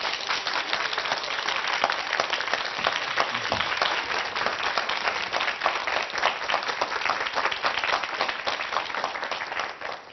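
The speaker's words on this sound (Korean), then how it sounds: "큰 박수로 모시겠습니다" An audience claps steadily to welcome a lecturer at a talk, a continuous crisp patter of many hands at even loudness for the whole stretch, with no speech over it.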